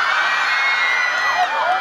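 A festival crowd at a university festival cheers for a band, a continuous loud roar of shouting and screaming voices.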